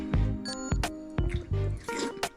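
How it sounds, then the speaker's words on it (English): Garri soaked in liquid is stirred in a bowl, giving close wet squelches and soft drips with ringing taps of a spoon on the bowl, about five strokes in quick succession. "Give it a little stir again and just dig in."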